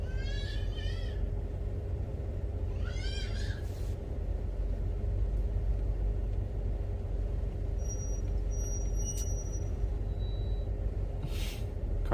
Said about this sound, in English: Car's making all of its beautiful chords, all of its melody songs.